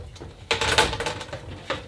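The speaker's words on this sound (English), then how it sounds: "The upper spray arm can be removed on this model just by unscrewing it" A short burst of hard plastic clatter and scraping as the upper spray arm of a Miele G4203 SC Active dishwasher is unscrewed, followed by a few quieter knocks.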